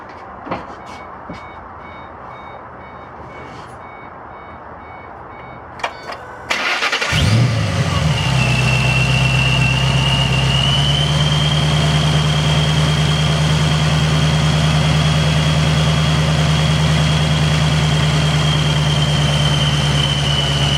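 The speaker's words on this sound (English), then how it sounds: "now I'm going to start the car" After a few faint clicks and rustles, a 2005 Ford Mustang GT with a charging fault cranks and catches, then settles into a steady, loud idle hum that continues to the end.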